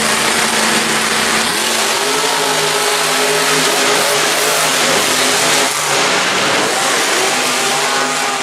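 Monster truck engines rev hard during a Monster Jam racing final in Cardiff, a loud continuous roar with rising and falling pitch over a constant crowd-and-arena wash.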